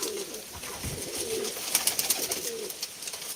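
Pigeons coo softly at a bird auction, their low murmuring calls rising and falling over several seconds amid faint background noise and a few brief higher chirps.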